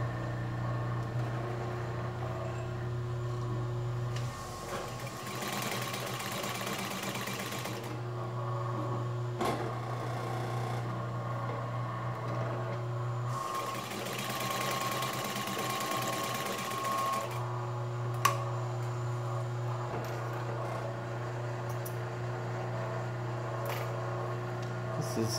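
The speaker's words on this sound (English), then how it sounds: "We'll go ahead and start the motor on the machine. This will be three layers of marine vinyl." Singer 31-15 industrial sewing machine with its motor humming steadily, sewing through three layers of marine vinyl in two distinct bursts of fast, muffled mechanical stitching over the constant low motor drone.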